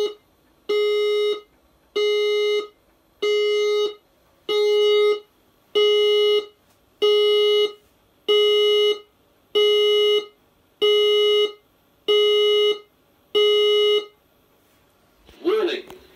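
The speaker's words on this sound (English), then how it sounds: "The fire alarm system has operated." An electronic fire alarm beeps in a steady repeating pattern during a beam detection test, about a dozen long loud tones separated by short gaps, sounding alone and close.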